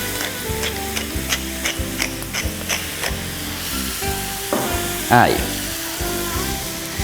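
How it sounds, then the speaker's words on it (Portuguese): Bacon sizzles and crackles in a frying pan while Christmas dinner is cooked, a dense, continuous frying hiss over steady background music, with one brief spoken word. "Enquanto vai fritando a nossa carne"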